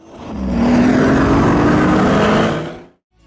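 The supercharged 6-liter V12 of a Pagani Huayra hypercar roars loud and close, building quickly to a sustained rising rev before cutting off abruptly.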